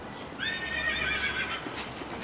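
A horse gives a loud, close whinny lasting about a second, a clear descending neigh over steady outdoor background noise at a Western gunfighter show.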